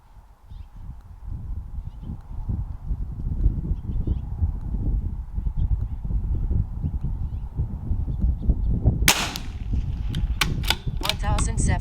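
A CZ 457 rifle fires a five-round group at a precision target match: a cluster of sharp, fairly quiet cracks comes near the end, over steady outdoor background noise.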